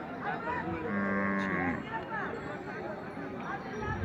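At a bull market, cattle moo loudly and nearby in one long drawn-out call, over a steady murmur of crowd voices and people talking.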